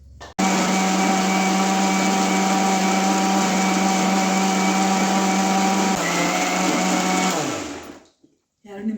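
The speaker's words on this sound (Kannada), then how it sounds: "ನಿಮಿಷ ರುಬ್ಬೇಕು." Electric mixer grinder whirring steadily at high speed while grinding chutney for kachadi, a loud continuous drone that runs for about seven seconds before winding down and cutting off.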